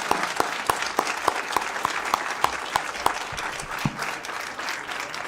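Steady applause fills a Federal Way city council chamber during a regular meeting, with several sharp, distinct nearby claps standing out over the continuous clapping of the audience.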